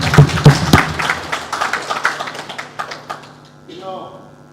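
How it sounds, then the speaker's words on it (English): Audience applause at a community roundtable on plastic pollution and sand mining, honoring the minister: a burst of scattered hand claps that gradually thins and fades out over a few seconds. "A big round of applause again for the minister"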